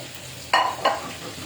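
Shrimp fritters frying in a home kitchen, with two brief scraping stir bursts over a steady low sizzle, close and fairly loud.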